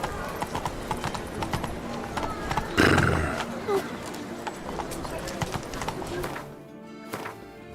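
Roach, a horse in the video game The Witcher 3, clip-clops along with steady rhythmic hoof beats under game ambience and a voice, with a louder burst partway through before the sound thins out near the end.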